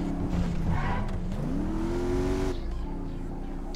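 A car in GTA Online drives steadily, its engine droning and rising in pitch as it accelerates, then settling lower, a continuous close engine hum throughout.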